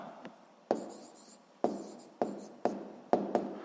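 Pen on paper writing down the answer to a sixth-grade math exercise on proportions: about six short, scratchy strokes, quiet and close, with gaps between them and no talk.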